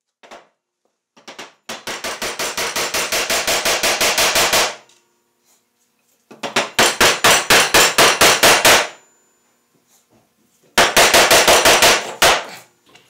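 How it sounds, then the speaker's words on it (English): A wooden mallet glued with rapid-fuse wood adhesive pounds a 50-pound weight in three fast volleys of sharp, loud, evenly spaced strikes, each burst lasting a few seconds with brief silences between. "As you saw, I was smacking on a 50 pound weight with it."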